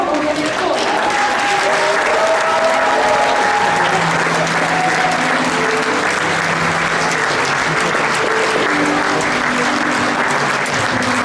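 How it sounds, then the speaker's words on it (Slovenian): At the Zvezde na snegu concert in Gorje, an audience welcomes a singer with loud, continuous applause, a thick steady roar of clapping with faint voices and tones mixed underneath. "Pozdravimo jo z glasnim aplavzom."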